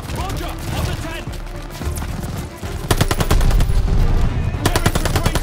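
Sustained rifle and machine-gun fire concentrated on a tent during a D-Day Normandy invasion in a video game, dense and loud, building into heavier rapid bursts with shouted voices mixed in.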